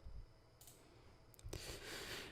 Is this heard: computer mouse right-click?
yes